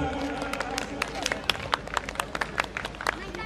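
An audience at a Holi Milan celebration gathering claps, scattered sharp hand claps building into brisk applause while an announcer keeps talking over a loudspeaker.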